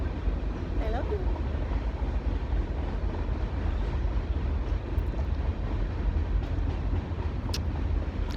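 A train rolling past at steady volume, its broad low rumble running continuously as the last cars go by, with faint bits of talk and a few brief high squeals over it.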